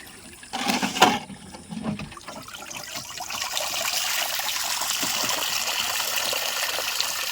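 Water rushing and trickling steadily around a crab trap being pulled up from a stream, starting with a few splashes and knocks, then a continuous close, fairly loud flow.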